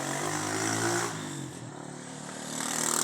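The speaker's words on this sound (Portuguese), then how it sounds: "Olha o barulho da moto passando." A motorcycle passes near a house around midday, its steady engine drone shifting in pitch as it goes by at moderate distance, with no talking.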